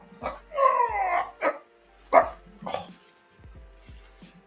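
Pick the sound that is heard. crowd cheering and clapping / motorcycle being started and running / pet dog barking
pet dog barking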